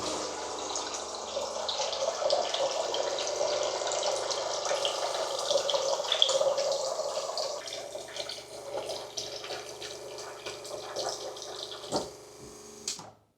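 A 3D-printed automatic water dispenser pours a measured stream into a container on a scale, a steady trickling splash that runs for several seconds, then tapers off with a few final drips.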